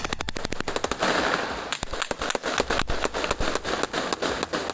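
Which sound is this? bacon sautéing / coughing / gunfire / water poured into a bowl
gunfire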